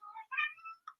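A cat meows indoors near a closed window, several close, loud plaintive cries in quick succession with a short final mew, no talking over them.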